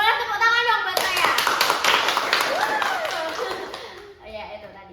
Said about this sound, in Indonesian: Boleh tepuk tangan dong buat saya.